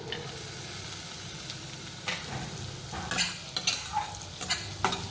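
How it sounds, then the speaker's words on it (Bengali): Garlic lightly fried in oil in a pan, a steady close sizzle with occasional sharp scrapes and clinks of a stirring utensil growing more frequent toward the end. "রসুনটা আমার হালকা ভাজা হয়ে গেছে তো তারপর দেব পেঁয়াজ কচি"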